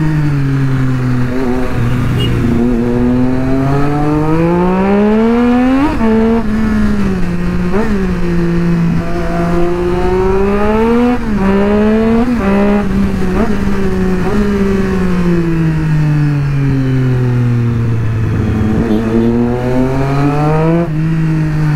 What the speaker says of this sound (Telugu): ఇప్పుడు బండి గురించి చూపిస్తాం మీకు, హౌ ద బైక్ రన్స్